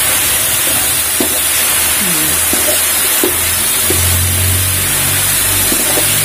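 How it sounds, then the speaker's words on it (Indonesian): Chili sambal fries in oil over a low flame, making a steady, loud hiss and sizzle that runs unbroken throughout, with faint clinks and stirring noises underneath. "Goreng seperti ini."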